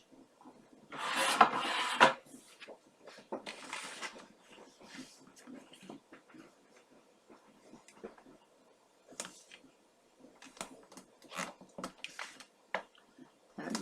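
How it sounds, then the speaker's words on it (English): Paper being trimmed for a baby album page, with a burst of scraping, rasping cuts near the start followed by sparse, faint handling taps and rustles; no talking. "I'm going to cut this down about 1/32 of an inch."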